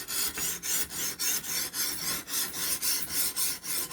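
Steady back-and-forth rasping strokes of a knife blade drawn over a coarse whetstone on a Ruixin Pro sharpener, about a dozen even scrapes in a regular rhythm, close and clear with no talking.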